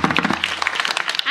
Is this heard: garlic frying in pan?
no